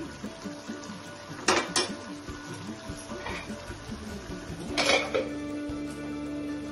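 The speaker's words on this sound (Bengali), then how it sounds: "দেখুন ঢাকনাটা আবার তুলে নিলাম" Metal lid lifted off a pot of mutton curry, with a couple of sharp clanks and scrapes of metal against the pot over a quiet kitchen background.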